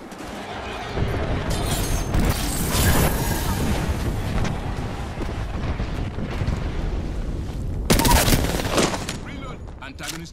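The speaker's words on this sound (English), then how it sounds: "Marines, airstrike." A loud airstrike in Apex Legends: heavy rumbling blasts and booms roll on continuously, with a sharp louder impact late on, and voices talk over it.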